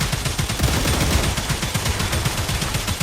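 Rapid, sustained automatic gunfire from weapons in the video game StarRupture, a dense rattle of overlapping shots that continues without a break at steady, fairly loud volume.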